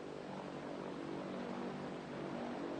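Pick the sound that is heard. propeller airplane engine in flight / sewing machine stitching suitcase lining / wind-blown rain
propeller airplane engine in flight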